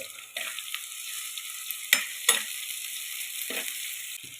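Shallots and green chilies frying in a pan give a steady hiss with a few sharp clicks and stirring scrapes, close up and without talk.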